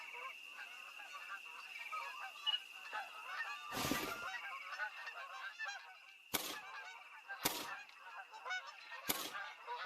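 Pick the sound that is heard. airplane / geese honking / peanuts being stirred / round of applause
geese honking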